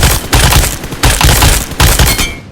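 Automatic weapon fire in the mobile battle royale game PUBG Mobile comes as three loud, close bursts of rapid shots, each about half a second long with short gaps between them.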